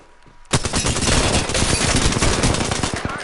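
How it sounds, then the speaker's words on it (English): Sustained rapid automatic gunfire in an Apex Legends match, bursting in abruptly after a quiet moment and continuing as a loud, dense, near volley of shots. "Shots fired and they're hitting me."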